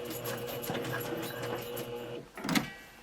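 A sewing machine stitches a cardigan close to its serged edge, running steadily and fairly quietly for about two seconds before a brief pause and a short louder burst.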